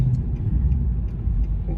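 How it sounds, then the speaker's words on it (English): Infiniti FX50 Sport crossover engine with a muffler delete, giving a brief, close, deep rumbling drone that holds steady without any talk. "Listen to that engine. Obviously I've done a muffler delete on this one"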